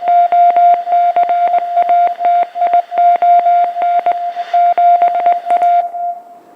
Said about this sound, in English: I'm going to assume that's Morse code.